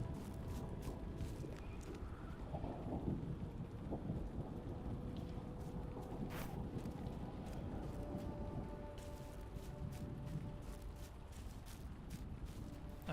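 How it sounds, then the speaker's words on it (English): Rain pours steadily onto the ground in the fantasy online game Lord of the Rings Online, a soft continuous hiss broken by occasional rumbles and crackles of thunder, fairly faint and even throughout. "that's the rain hitting the ground"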